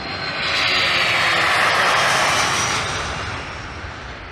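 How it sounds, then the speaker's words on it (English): A KC-135 tanker aircraft takes off with a loud, steady jet engine roar that swells over the first half second, holds at full power, then slowly eases as it moves away. "The KC-135 takes off like any cargo aircraft, such as the C-5."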